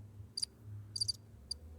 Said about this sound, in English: Originally, that was crickets.